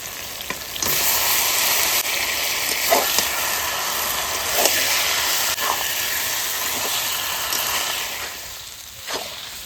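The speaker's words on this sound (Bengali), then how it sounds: "মশলা আর হাঁসের মাংস একসঙ্গে দুজনেই কষাবো" Duck meat being sautéed with spices in a pan: a loud, steady sizzle and hiss of frying, with occasional stirring scrapes and clinks and no one talking.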